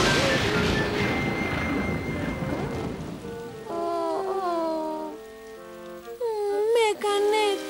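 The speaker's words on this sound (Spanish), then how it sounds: "está lloviendo" Dense rain patters steadily for a few seconds, then fades as children's voices and whimpering cries take over.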